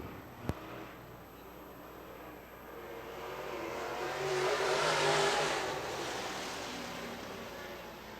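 Late model race cars at the Douglas County Dirt Track during a heat race, a distant engine roar swelling and fading as the pack passes, faint under crowd and open-air ambience.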